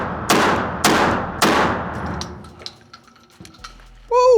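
A MAC 1014 semi-automatic 12 gauge shotgun fires three loud, booming shots in quick succession, each about half a second apart, then the echo decays and a few faint clicks and handling noises follow.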